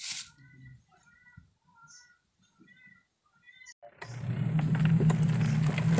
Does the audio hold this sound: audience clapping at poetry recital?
no